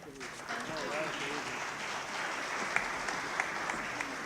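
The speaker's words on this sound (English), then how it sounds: "let's give Mrs. France and all the Mrs. Frances of this world a big round of applause" Audience applause at a My Brother's Keeper opening ceremony in Buffalo, a steady crowd clapping that continues evenly throughout, with a few sharper claps standing out near the end.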